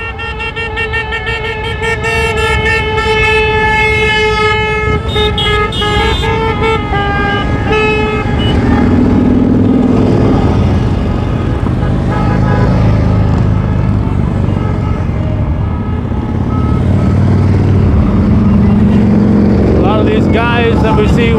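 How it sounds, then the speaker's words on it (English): Fire trucks pass in an escort procession, sounding long sustained horn blasts and wailing sirens over heavy engine rumble, loud and close, with people talking throughout. "Here comes that Georgia fire truck, Georgia, Vermont, that is."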